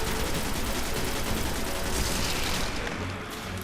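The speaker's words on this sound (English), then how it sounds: "this assault rifle does work" Shingen assault rifle firing in Destiny, a dense, continuous stream of loud automatic shots with no pauses, easing slightly toward the end amid game sound.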